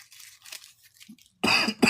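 Two sharp coughs come near the end, one right after the other, following a few quiet breathy sounds.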